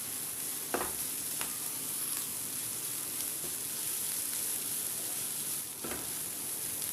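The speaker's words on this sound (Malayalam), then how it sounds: "ഇതിലോട്ട് ക്യാരറ്റും ക്യാബേജും ഇട്ട് കൊടുക്കണം ഇതും കുറച്ചൊന്ന് വഴറ്റണം" Carrots and cabbage sauté in a pan for a crispy chicken puff roll filling, a steady close sizzle with a few brief scraping stirs, with no talking.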